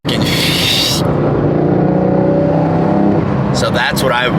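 A Porsche Turbo S engine and exhaust while driving, a loud, smooth, steady rumble with a whooshing, vacuum-like tone, heard close from inside the car as someone talks over it.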